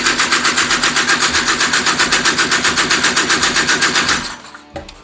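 A Honda Odyssey FL350 with a DG exhaust fires up for its first start, a loud, rapid, even engine chatter running steadily for about four seconds before cutting out abruptly into quiet.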